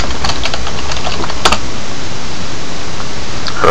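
Rapid keystrokes on a computer keyboard as a search is typed, close and clear, clicking in quick irregular bursts over a steady hiss with no talking.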